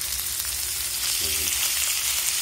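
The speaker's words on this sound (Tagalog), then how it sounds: "Tapos yan, lalagay na yung bamboo shoots." Bamboo shoots frying in a pan for adobo, a continuous close sizzle with a brief clatter of stirring midway.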